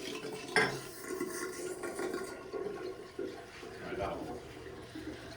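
High-pressure water from an RO system flushes into a sink drain in a loud, rushing gush with sudden bursts and clatter, and someone talks over it.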